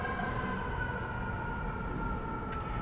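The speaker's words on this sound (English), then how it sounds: "I'm going to wait till the siren goes by." An emergency vehicle siren passes outside, its steady tones holding faint and distant under a constant room hum, with no talking.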